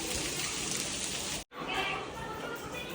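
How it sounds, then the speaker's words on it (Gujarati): Heavy monsoon rain pours down steadily as a dense, even hiss, broken by one brief dropout midway before resuming at the same strength. "જોરદાર વરસાદ વરસી રહ્યો."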